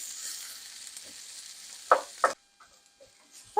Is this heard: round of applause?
no